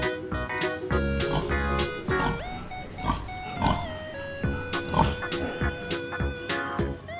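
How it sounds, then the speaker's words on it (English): A pig oinks and grunts in several short bursts over a steady background of music. "PIG pig."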